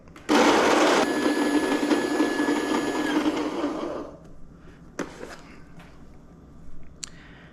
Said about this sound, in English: I'm gonna grind this up to a 10.